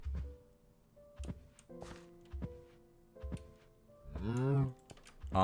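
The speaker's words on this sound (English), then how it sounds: "Come here, Mr. Mocking Cow." A cow in a Minecraft-style video game lets out a drawn-out, close moo near the end, preceded by several dull thunks and keyboard taps spaced through the quiet.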